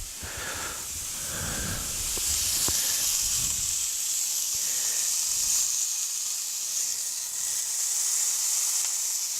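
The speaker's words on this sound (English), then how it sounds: "Get it to sizzle, get it to burn, make it smoke." A sous vide burger sears in a hot pan, giving a steady, close sizzle and hiss that runs throughout, with a few faint clinks and low bumps early on.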